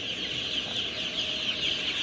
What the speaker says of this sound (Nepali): यो चल्ला आज पुरै दुई हप्ताका पुगिसकेका छन्